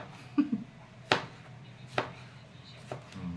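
A knife chops through tomatoes on a cutting board in a home kitchen, giving several sharp, separate knocks at irregular intervals, close and clear with little else around them.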